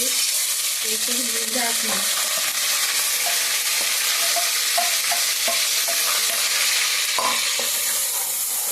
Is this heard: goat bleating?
no